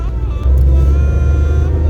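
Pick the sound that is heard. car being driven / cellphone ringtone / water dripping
car being driven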